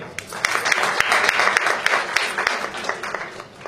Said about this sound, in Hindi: सबसे पहले उनकी जोरदार तालियां।